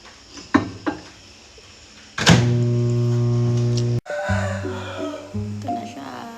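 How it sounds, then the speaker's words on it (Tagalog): Microwave oven running as a chocolate chip mug cake heats, a steady loud hum with a door or latch clunk midway before the droning resumes, after scattered kitchen knocks. "Tapos, i-microwave natin to for 60 seconds."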